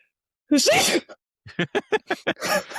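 One loud, close sneeze, then a short pause and a quick run of sharp breathy bursts.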